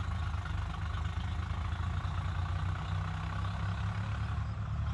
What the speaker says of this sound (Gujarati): જો બે ટ્રેક્ટર તો